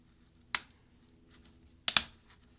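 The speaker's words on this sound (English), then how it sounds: "that's going to separate the plastic key from the plastic scissor hinge underneath it" A Caps Lock key on a mid-2010 13-inch MacBook Pro being pried off its plastic scissor hinge with a tool, producing one sharp plastic click and then a quick double snap, close and crisp against near silence.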